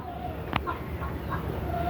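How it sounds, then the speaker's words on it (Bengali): A hen clucks once, briefly and close, as she settles onto a clutch of Chinese duck eggs in a nest bowl bordered with bricks, with steady low background noise around her. "এই যে আমার মুরগি, ওকে বসাবো।"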